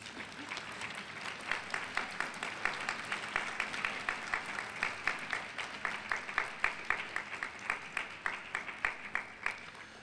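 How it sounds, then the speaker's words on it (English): Graduates and guests at a School of Dentistry commencement give a sustained round of applause, a broad wash of many hands with a strong, regular rhythmic clapping pulse throughout, moderately distant in a large hall. "please stand and give them a rousing round of applause"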